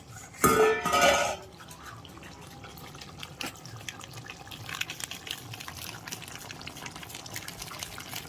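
A metal lid lifts off a simmering pot of shukto with a short bright clatter, followed by soft bubbling and faint kitchen clinks.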